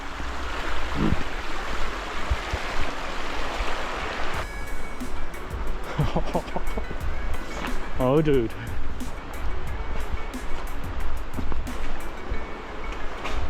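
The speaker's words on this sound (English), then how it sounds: "You can go on the other side of the exit and see where the water flows into the cave." River water flows into a cave with a loud, constant rushing roar, while someone speaks briefly over it.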